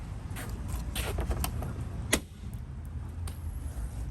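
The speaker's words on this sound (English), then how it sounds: "So you can hear the clips removing themselves, but I'm going to take the bumper off some more to get to that." Plastic bumper clips pop loose on a Ford Fusion bumper being pulled off, with a few sharp creaking snaps, one loud crack standing out, over a low rumbling background.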